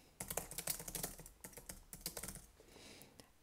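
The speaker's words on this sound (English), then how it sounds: "So you can type whatever you want." Text typed on a computer keyboard in quick, close, uneven bursts of soft key clicks that pause briefly before trailing off, with no voices.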